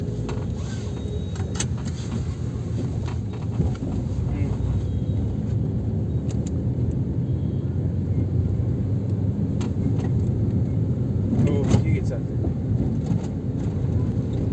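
A manual car drives on a road during a driving lesson, with a steady low engine and road rumble running throughout while people talk inside the cabin.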